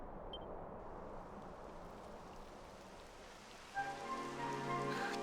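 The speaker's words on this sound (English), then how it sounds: "It would have to go and start raining, wouldn't it?" Rain hisses softly and steadily in the video game Dragon Quest XI S, faint and even, before a brighter tonal layer joins near the end.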